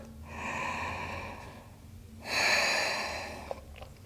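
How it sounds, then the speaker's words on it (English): Slow, deep breathing during a yoga flow, a long steady exhale followed by a fuller inhale, close and clear with no talking. "One more breath."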